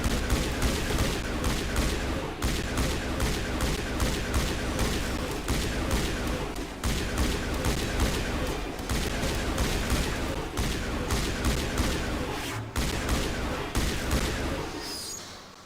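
Sustained gunfire in Mass Effect rattles in dense, rapid bursts that stay loud almost without pause for the whole stretch, then trail off near the end. No talk is heard over it.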